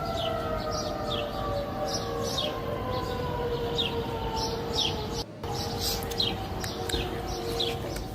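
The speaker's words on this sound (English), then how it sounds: "how would you feel hearing an unexplained siren like this one right outside your door?" An unexplained air-raid-style siren wails steadily outside a home, a long sustained droning tone that holds throughout while birds chirp over it.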